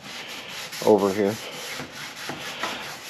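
Steady rubbing sanding scratches along continuously, with a brief spoken phrase near the start and faint strokes repeating afterward.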